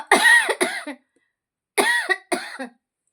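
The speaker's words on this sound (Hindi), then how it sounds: "खांसी बहुत ज्यादा है" Two bouts of harsh coughing, each a quick double cough, close and loud, separated by a short silence.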